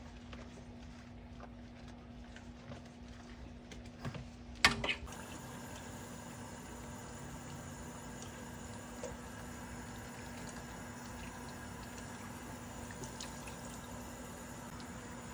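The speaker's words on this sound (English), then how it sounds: "So now I'm rinsing all the shampoo out" Water running steadily as shampoo is rinsed out of a Yorkie puppy's coat, a faint continuous splashing hiss with a brief knock partway through, close and quiet.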